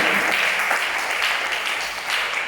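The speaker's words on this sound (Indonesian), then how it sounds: "Tepuk tangan sekali lagi untuk Tuhan Yesus." Congregation clapping at a Christian youth church service, a dense burst of applause at close range that holds steady for a few seconds with no talking.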